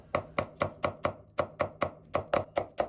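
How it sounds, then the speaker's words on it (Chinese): Knife chopping carrot into thin, even strips on a cutting board, with a steady run of about a dozen crisp, close blade strikes at an even rhythm and no talking. "然後再切成粗細均勻的絲。"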